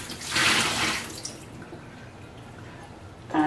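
Water poured out of a homemade self-watering pot gives a brief, close splashing gush near the start, then fades to faint dribbles before a short clatter at the end.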